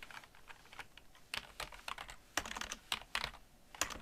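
Keys clatter on a computer keyboard nearby in uneven bursts of quick taps with short pauses, typing a shortcut into a text expander.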